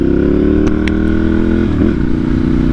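A loud, steady motorcycle engine running close by, a continuous low rumble with a slight shift in pitch partway through.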